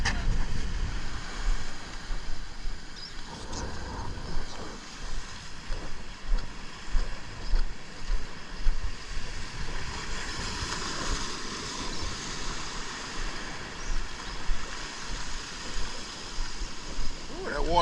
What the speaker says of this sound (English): that water coming over the rocks though